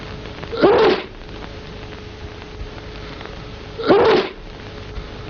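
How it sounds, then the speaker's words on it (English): Two loud, close sneezes about three seconds apart, each a sharp burst that quickly fades, over a steady low hum with no talking. "Handkerchief, sneeze. See what I mean?"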